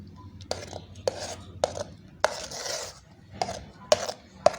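Mango jam being spooned from a pot into containers, with a series of sharp metal utensil clinks and scrapes against cookware, close and fairly loud, spaced irregularly over a quiet kitchen background.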